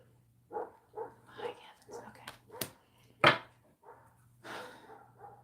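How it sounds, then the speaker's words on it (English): A dog barks outside in a series of short, separate yaps, with one louder sharp bark near the middle, alongside quiet nearby talking. "Well, I know it has to be a new dog"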